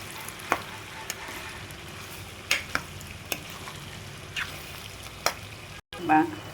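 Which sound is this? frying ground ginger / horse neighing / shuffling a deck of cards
frying ground ginger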